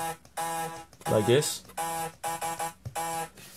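Dry sample sound with all effects off in FL Studio: repeated bright tonal synth notes in short stuttering bursts, with a brief stretch of talk over it partway through.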